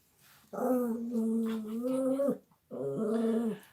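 A dog growls in two long, loud, close tonal stretches separated by a brief pause, the sound edging into a whimpering whine.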